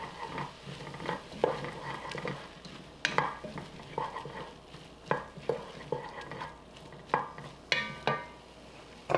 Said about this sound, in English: Then you want to add about a tablespoon of tomato paste. Give that a stir.